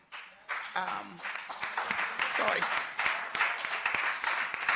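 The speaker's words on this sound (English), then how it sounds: "we should put our hands together and heartily applaud Mrs. Pamela" An audience at a live-streamed Jamaican accountability event gives a warm round of applause for Mrs. Pamela Monroe Ellis, the clapping swelling in quickly and holding steady, with a voice speaking over it.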